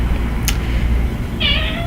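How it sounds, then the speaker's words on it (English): A pet cat gives a single short meow near the end, close and clear, over a quiet low room hum with a brief click earlier. "And that was Louis giving his 2 cents, our kitty cat"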